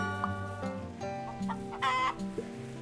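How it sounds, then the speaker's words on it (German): Chicken clucking in the farming video game Farm Land, a series of short, bright clucks and squawks over a steady game music bed, clear and close with no talking. "Noch ein Huhn"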